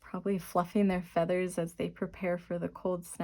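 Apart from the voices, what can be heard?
No everyday noise stands out behind the speech.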